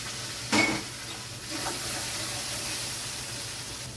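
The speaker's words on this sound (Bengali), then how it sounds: "এবার আমি দিয়ে দেবো আদা রসুন বাটা।" Ginger garlic paste drops into hot oil with spices and onion paste in a pan, setting off a sharp burst of sizzle followed by a steady, close frying hiss and a brief stirring scrape.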